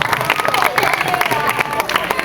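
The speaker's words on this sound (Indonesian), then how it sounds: "Tepuk tangan untuk kita semua." Lively clapping and cheering from a crowd at an Indonesian religious lecture, quick uneven claps mixed with voices and shouts, loud and close.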